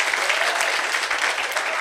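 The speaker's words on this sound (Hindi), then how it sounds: "ताली बजाओ तो अच्छी बजाओ यार, नहीं तो मत बजाओ, जोर से बजाओ।" A youth camp congregation claps hard and fast at a sermon session, a thick, even wall of applause filling the space without letting up.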